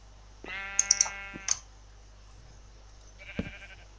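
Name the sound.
sheep bleating in a video game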